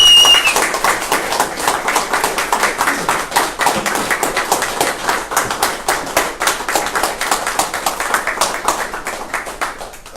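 Audience at a meeting clapping in a burst of applause that starts dense and thins into sparser, rhythmic individual claps over about ten seconds.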